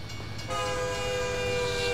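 A train at a level crossing in the American Truck Simulator game, a loud sustained horn-like tone with stacked harmonics swelling in after a brief low rumble and holding steady to the end, no talking.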